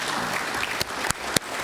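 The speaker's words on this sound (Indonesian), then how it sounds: "Tepuk tangan untuk kita semua." A brief burst of audience applause at an Indonesian police forum, dense and even clapping from a full room, with a few sharper claps standing out near the end.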